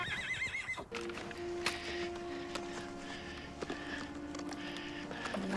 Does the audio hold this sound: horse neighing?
yes